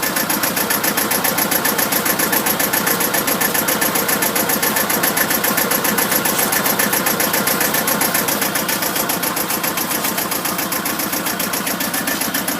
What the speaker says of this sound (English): Gonna have to stop the engine for a second so it can catch up.